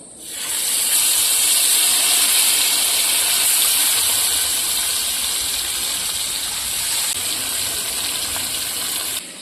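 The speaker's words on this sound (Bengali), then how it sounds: "মাছটা ওদিকে ভাজা হচ্ছে" Bhola fish pieces fry in hot oil, giving a loud, steady hiss that stays even and continuous for the whole stretch, close by with no talk.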